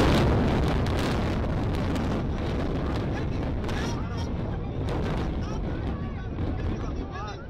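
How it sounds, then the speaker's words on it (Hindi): The demolition blast of the Noida twin towers comes as a loud, continuous roaring rumble of detonations and collapse, heavy with wind buffeting the microphone and sustained throughout. "जबरदस्त धमाका आपने देखा अभी और चंद सेकंड के अंदर ये दोनों ट्विन टावर धराशायी"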